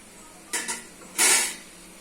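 Egg and semolina biscuit dough stirred in a bowl with a utensil: two quick scraping clinks, then one longer scrape, close and clear with no talk.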